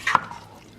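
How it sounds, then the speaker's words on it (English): A single wet drip or squish rises from a pot of red, tomato-heavy taco soup as it is stirred, one short close sound followed by quiet. "Let me just give this a little stir."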